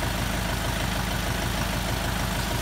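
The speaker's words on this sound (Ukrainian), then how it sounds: "завели все, трошки прогріється тракторець" A DTZ 5504K tractor engine idles steadily just after start-up, a loud, continuous low diesel rumble with an even pulsing throb and no talk.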